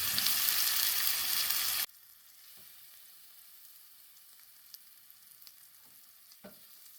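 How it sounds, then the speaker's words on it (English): Onions for serrano hot sauce frying in a pan make a loud, bright sizzling hiss for about two seconds, then the sound cuts off to near-silence broken by a few faint ticks and taps. "Now you're going to cook this just till the onions get a little translucent and get a little browning to them"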